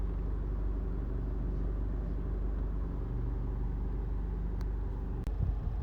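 Honda CR-V 2.2 i-DTEC diesel engine, Euro 5 automatic 4WD, idling steadily with a low, even rumble throughout and a brief thump near the end.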